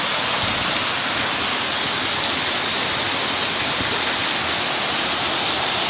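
Continuous rushing water fills the scene, a dense, steady splashing roar of water pouring over the wheel of the historic Skeenah Mill, with no break.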